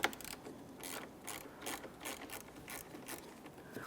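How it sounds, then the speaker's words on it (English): A small bit driver with a Phillips bit backs out the front grille mounting screws on a 2010-2013 Kia Forte Koup, giving a quick series of light, close ratcheting clicks in irregular bursts. "Now with that holding pressure, we can continue on with a small bit driver."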